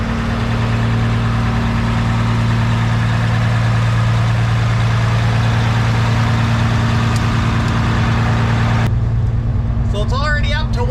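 A cabover truck engine idles steadily with a constant low drone and hum throughout, loud and close; someone talks over it toward the end.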